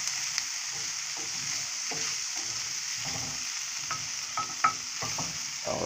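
Bologna frying in a hot pan with a steady sizzle, while a utensil scrapes and stirs in irregular strokes, close by, with a few sharper pops and clinks.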